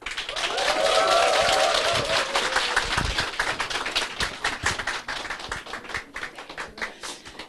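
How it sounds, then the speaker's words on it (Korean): Conference audience applauding, a dense burst of many hands clapping that thins into scattered claps, with a voice briefly audible at the start. "다시 한번 뜨거운 박수 부탁드립니다"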